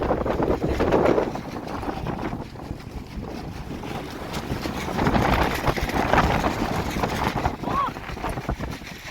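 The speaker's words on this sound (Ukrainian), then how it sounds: "від річки тут такий вітер, що просто зноси" Strong wind off a river buffets the microphone with a steady roaring rush that swells and fades, with no clear talking.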